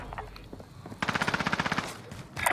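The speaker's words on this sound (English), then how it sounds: "Oh, he's shooting at me." Rapid automatic gunfire in Call of Duty: Modern Warfare, a burst of about a dozen evenly spaced shots near and loud, preceded by scattered fainter shots and followed by more firing at the end.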